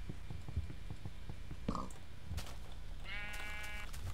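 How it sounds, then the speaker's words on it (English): Sheep in the video game Minecraft give a single drawn-out wavering bleat near the end, over a steady bed of game background sound with a few soft taps and clicks earlier. "Stupid freaking sheep."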